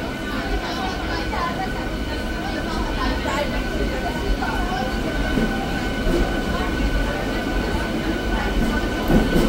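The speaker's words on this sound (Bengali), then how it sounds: "খড়গপুর ঢুকছে ট্রেন" A train rolls slowly into Kharagpur station with a steady, heavy rumble of wheels and carriages throughout, while people talk nearby on the platform.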